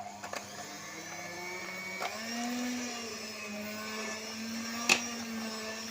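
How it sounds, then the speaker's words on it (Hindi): An electric beater whips chilled cream for mango ice cream, a steady, close motor whine with a slight wavering pitch and occasional clicks, with no voices. "अब हम इसे अच्छी तरह से ना कम से कम 10 मिनट के लिए बीट करेंगे"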